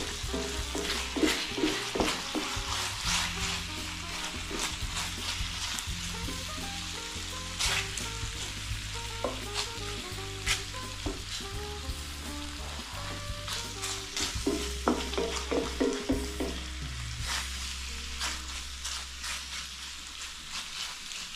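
Thinly cut pepper steak sizzles and fries in a hot pan while being stirred, with steady crackling broken by scraping and clinking of the utensil against the pan, fairly close and loud with no talk.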